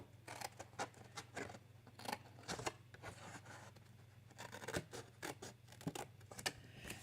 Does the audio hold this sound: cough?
no